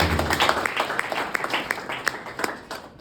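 A conference audience at a library association annual general meeting claps briefly for a few seconds, a moderate, fairly distant patter of hands in a room.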